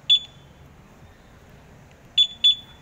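A Honda Click 125i scooter's two-way alarm chirps: one short electronic beep, then after a pause two quick beeps in a row, sharp and clear against quiet background.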